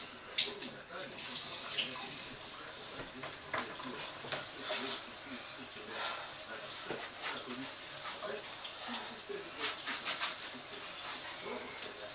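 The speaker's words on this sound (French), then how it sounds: "Je vais laver ma plaque, elle est trempée." Water runs steadily over a soaked cooktop hob plate being washed in a kitchen sink, a continuous splashing hiss with small knocks and clatters throughout, fairly close.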